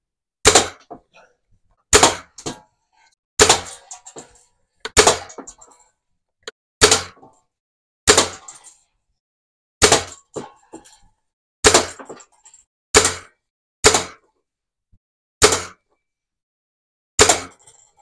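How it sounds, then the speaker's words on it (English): A Daisy BB gun fires at a tin can outdoors: about a dozen sharp, clean cracks spaced roughly every second or two, each with a brief metallic knock, with no talking in between. "I can come down and my wife and I can take turns shooting at the can"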